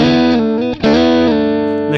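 Electric guitar plays a short lick, a few picked notes and a sliding chord that ring out with sustain, close and clear, with no voices.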